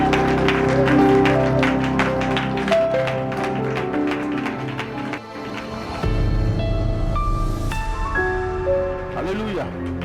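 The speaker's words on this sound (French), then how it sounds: "On acclame très fort le Seigneur" A church congregation at a Sunday service claps in a dense, sustained patter over music and voices, with cheering woven through.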